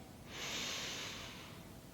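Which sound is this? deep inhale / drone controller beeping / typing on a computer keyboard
deep inhale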